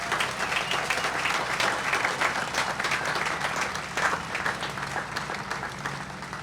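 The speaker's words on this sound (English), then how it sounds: "How about a round of enthusiastic applause for those veterans" A crowd claps steadily through a 6-second stretch at an outdoor July 4th patriotic program honoring parade veterans in Hamilton, the dense applause holding an even level with no voices over it.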